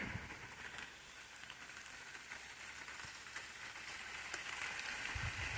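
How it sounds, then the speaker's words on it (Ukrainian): Rain pattering steadily on leaves and surfaces in a vineyard in late August, a soft, even hiss of drops close by with no talking. "бо дощик мене підганяє"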